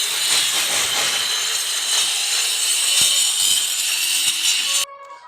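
A wall-chasing cutting machine grinds grooves into a building wall for electrical wiring, a loud, steady, high-pitched abrasive whine running continuously before cutting off abruptly near the end.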